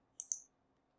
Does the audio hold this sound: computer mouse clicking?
yes